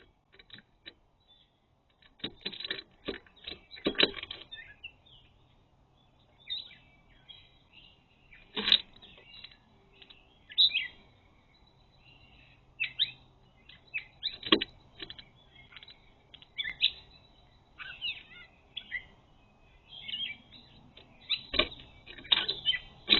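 Wild birds recorded on backyard wildlife cameras give scattered chirps and sharp ticks, with intermittent bursts and short fluttery sounds between quiet gaps, close and fairly clear.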